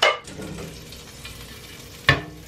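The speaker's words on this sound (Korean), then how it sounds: "마치 리사토스트 느낌으로다가 빵을 한번 이렇게 데워줘요." Bread warms in melted butter in a frying pan for a crab sandwich, a soft, low sizzle framed by two sharp clattering scrapes, one at the start and one near the end.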